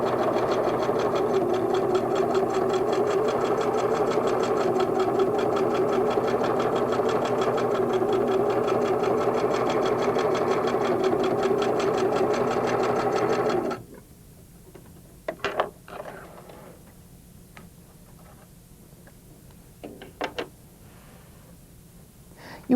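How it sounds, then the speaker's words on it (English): A Singer sewing machine stitches through a quilt in a steady, loud, rapid mechanical whir for about fourteen seconds, then stops, leaving quiet fabric handling and a few soft clicks. "Be sure to stop and reposition your quilt so you don't have any bunching and gathering while you're stitching."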